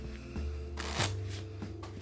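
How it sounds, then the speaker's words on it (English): A deck of playing cards is riffle shuffled on a tabletop, making a brief close flurry of flapping card edges with a low rumble and a light rustle as the cards settle together. "half and the full deck, pull, make a V, and once you have this down, as you lift up, the cards kind of push against each other"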